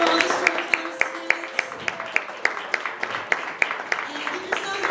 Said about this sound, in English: Let's give one more round of applause for all the storytellers tonight.